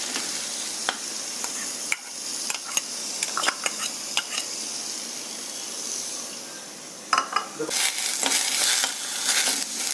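Ground onion paste sautés in a pan for a Punjabi mutton curry, a continuous close frying sizzle broken by scattered scraping clicks of a spoon stirring. The scraping grows louder and busier toward the end.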